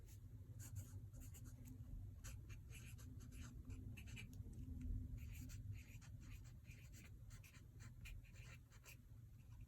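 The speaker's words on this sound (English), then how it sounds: "So under details, I'm going to write Powhatan's daughter." A pen writes 'Powhatan's daughter' by hand on paper, giving faint, close scratchy strokes in quick irregular bursts over a quiet room.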